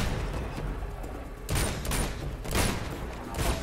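Gunfire rings out in the video game Uncharted 2, with several loud bursts of shots at roughly regular intervals over a continuous background rumble.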